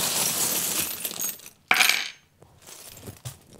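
Small metal charms clink as they are handled, then a sharp bright drop lands on a hard surface, short and close, followed by faint rustling.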